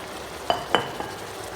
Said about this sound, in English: Now let's add in the fried chicken.